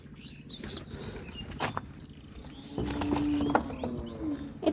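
A pet pigeon is caught by hand, its wings flapping in quick flurries and a soft coo rising near the end, over a busy background of other birds.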